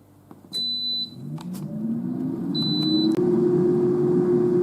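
An air fryer being set to preheat at 400 degrees gives two short electronic beeps a couple of seconds apart, then its fan hums steadily, rising and holding close.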